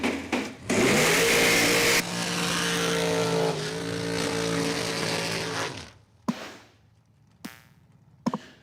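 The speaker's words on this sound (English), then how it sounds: "All right, couple of big burnouts." Drag racing cars at a points race do burnouts, a loud, close, sustained engine roar with a howling tone that rises, then gives way to a few short sharp bursts and revs toward the end.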